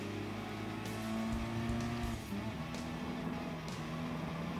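Racing cars in Gran Turismo Sport, including a pickup truck, with engines droning steadily at high revs and shifting pitch as they jostle close together, loud and continuous with no talk.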